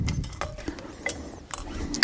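Metal ring being fitted onto a QA1 coilover shock, producing sharp light clinks and taps scattered irregularly across a couple of seconds, close and fairly crisp.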